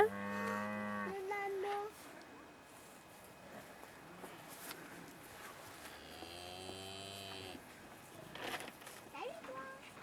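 Cattle moo during heifer sorting, one long low call at the start and another stretched moo midway, with faint background hum and distant voices.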